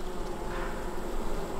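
Soft, continuous buzz of honeybees inside a weak, varroa-mite-infested hive, a faint steady hum heard up close with no talking.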